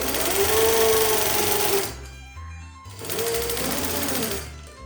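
Sewing machine stitching across the top of pinned black tartan kilt pleats, running in two loud continuous bursts separated by a brief pause.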